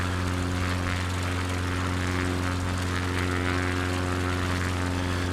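Steady droning propeller-aircraft engine from a Microsoft Flight Simulator 2020 bush-flying plane in Alaska, a continuous loud hum with strong low tones held evenly throughout, with no talking.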